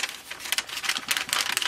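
Scissors snip through quilted fabric backed with freezer paper for a hoodie, giving a quick series of crisp, close cutting sounds in short irregular bursts, with no talking.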